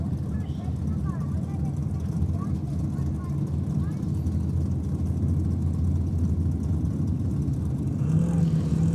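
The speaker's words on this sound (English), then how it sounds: "This Falcon down here, we talked about it a little bit earlier, but sounding very, very clean in the burnout" A Falcon drag car does a burnout at Sydney Dragway, its engine a loud, sustained low roar that holds steady through the clip. A commentator talks over it.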